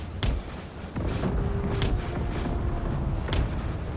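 Cannon fire in the Empire: Total War video game, heard as three sharp, distant booms spread over a few seconds above a low battlefield rumble.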